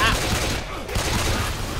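Rapid gunfire in the zombie shooter game Left 4 Dead 2 crackles loud and dense throughout, mixed with game noise and players talking over it.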